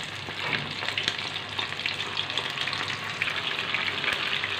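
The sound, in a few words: chicken pieces frying in hot oil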